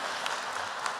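Audience applause at an executive MBA graduation ceremony: a continuous patter of many hands clapping at moderate volume, steady for the whole moment.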